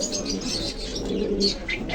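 Pakistani and Indian breed pigeons coo softly and continuously at close range in a pigeon market shop, a low murmuring flock sound without speech.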